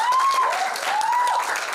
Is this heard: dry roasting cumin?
no